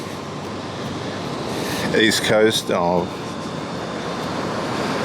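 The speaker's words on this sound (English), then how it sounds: "Bit of swell today here. And good waves. Look at that wave there." Ocean surf breaks in a steady, broad wash at Catherine Hill Bay beach on the New South Wales coast, rolling on throughout with someone speaking briefly over it midway.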